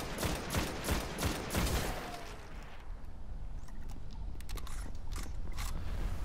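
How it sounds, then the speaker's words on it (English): Rapid gunfire bursts from a video game crackle loudly in quick volleys for the first few seconds, then thin out into scattered single shots and clicks over a steady background. "Who's shooting at me?"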